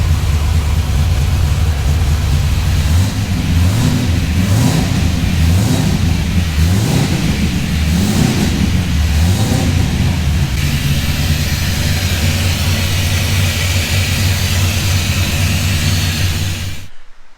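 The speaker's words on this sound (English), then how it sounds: "The car fired up and ran way better than I thought it ever would" An LS1 V8 swapped into a BMW E46 starts and runs loud and close, rising and falling in several revs before settling into a steady idle around 1000 RPM, then cutting off at the end.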